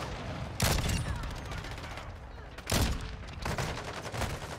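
Shotgun fire in the video game Modern Warfare 2 comes as two loud, heavy blasts about two seconds apart, then a burst of rapid shots, all over a busy, noisy game background.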